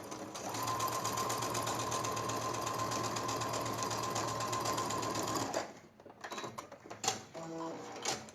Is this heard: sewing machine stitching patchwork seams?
yes